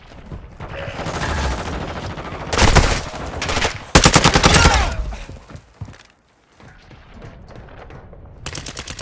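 Bursts of automatic rifle fire in Call of Duty DMZ on PS5, several loud close volleys separated by brief lulls, with only faint voice radio chatter in the background.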